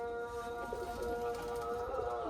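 A pigeon at a home loft coos in low, soft, rolling notes that repeat over a steady hum of background noise, fairly faint and with no voices.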